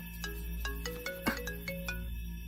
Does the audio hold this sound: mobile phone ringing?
yes